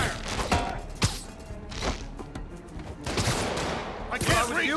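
Enemy gunfire in Marvel's Spider-Man, bursts of shots and heavy thuds that come repeatedly through a busy, loud fight with shouting voices and game action.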